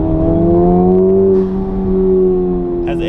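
Loud, throaty exhaust of an FL5 Honda Civic Type-R with an AWE Touring exhaust holding a steady rev, the deep drone dipping briefly then swelling again.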